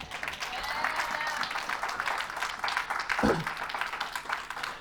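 A church congregation applauding in praise during a sermon, with sustained dense clapping from many hands filling the room and a voice briefly heard over it.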